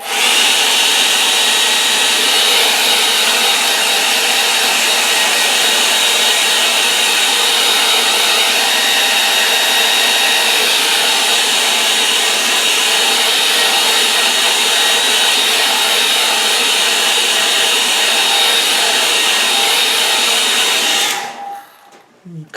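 A hair dryer blowing on a wet-in-wet watercolour painting: a loud, steady, close whooshing roar that holds constant for about twenty seconds before switching off and winding down.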